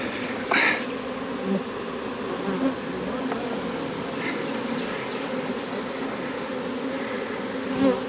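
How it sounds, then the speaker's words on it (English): Honey bees buzz in a dense, continuous swarm around a hive box outdoors, with a steady droning hum and a few louder passes close by. "We'll know if we get the queen because these bees will all start going into this box."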